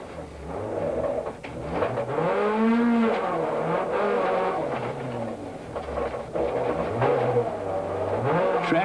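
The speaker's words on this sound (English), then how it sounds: "the driver's ability to control the sliding car becomes a vital factor." A Nissan Sentra rally car slides through a gravel stage of the 1993 Sasol Rally, its engine revving up and down in repeated surges as the driver works the throttle, loud and close without any talk.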